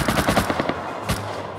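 Rapid bursts of AK rifle fire in the survival game Rust, a quick rattling volley of about eight shots followed by a single louder shot, with no talk.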